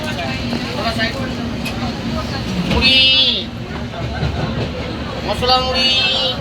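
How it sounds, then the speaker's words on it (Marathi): Inside a moving train from Puri toward Kolkata, a steady low rumble runs beneath nearby chatter, with a couple of short high-pitched squeals or toots. "आणि आता आम्ही सगळे ट्रेनमध्ये आहे"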